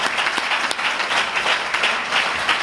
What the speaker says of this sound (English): Let's give Brother Akbar another well-deserved round of applause for that wonderful lesson today, brother.